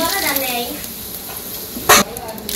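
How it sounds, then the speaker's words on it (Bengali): Bay leaves dropped into hot cooking oil on a stove, a soft steady sizzle with a brief louder crackle, while a person talks over it. "তেজপাতা দিয়ে দিলাম"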